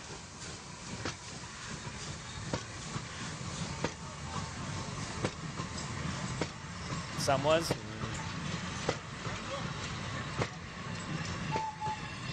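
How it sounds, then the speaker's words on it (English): Recorded train ambience plays softly in the background, a steady rumble of rolling rail cars with faint clanks, running the whole time beneath someone talking over gameplay. "I'm literally just playing train sounds in the background"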